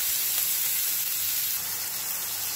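Onions and green chillies with cumin frying in hot oil, a steady, close, loud sizzle and hiss that runs unbroken with no talking.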